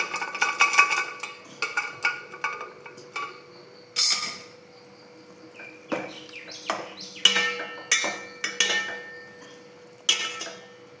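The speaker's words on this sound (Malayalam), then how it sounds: "ഇനി നമുക്കതിലേക്ക് വേവിച്ച് വെച്ചിരിക്കുന്ന കടല ചേർത്ത് കൊടുക്കാം." Cooked chickpeas going into a tomato curry in a pan: scattered clinks and scrapes of a spoon against the metal pan come in irregular bursts, close and fairly quiet, with no talking.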